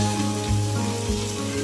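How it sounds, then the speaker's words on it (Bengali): Small tengra fish sizzle in hot oil in a wok, a steady, moderately close frying crackle alone without talk. "এখন এই মাছগুলো সুন্দর করে আমি ভেজে নেব।"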